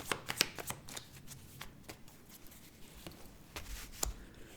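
Playing cards are shuffled and drawn for a tarot-style reading, giving a run of crisp riffling flicks and soft slaps, close and fairly quiet, with no talking.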